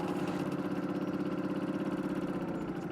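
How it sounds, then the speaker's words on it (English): A moped engine idles with a steady, fast, buzzing pulse, close and constant for the whole stretch with no other sounds. "Arriving for a hot date on a moped."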